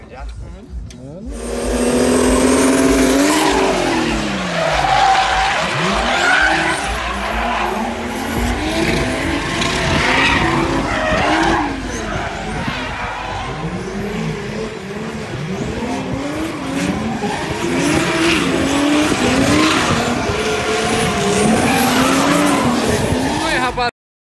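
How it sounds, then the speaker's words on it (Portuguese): Kart drifting on a kart track, engine buzzing and revving continuously with repeated squealing, skidding tires, loud and close, with voices talking over it throughout. "agora, filho, é mais drift, viu?"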